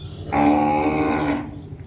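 A single long, loud lowing call from a cow or calf in a cattle shed, steady and close, lasting about a second before fading into quiet.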